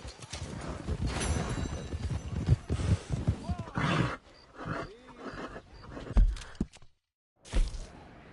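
Horse hooves clip-clop rhythmically in a video game ride, steady and close, with snorts and game voices talking over them, briefly cutting out before resuming.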